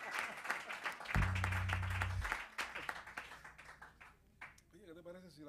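An audience at a jazz quartet concert claps for a musician, a burst of applause under a host's amplified voice that fades as he keeps talking.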